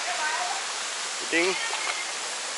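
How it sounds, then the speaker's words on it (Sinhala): Clean water pours steadily at Anda Dola waterfall near Horana, a constant hissing rush filling the scene while someone speaks briefly over it. "පිරිසුදු වතුර ගලාගෙන ඉන්නේ"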